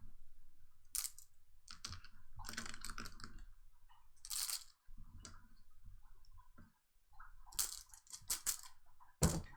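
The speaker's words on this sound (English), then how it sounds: "Nice clanky bag." Board game tokens for Arkham Horror rattle and clack in a cloth bag, shaken in several bursts with brief pauses, close and fairly loud.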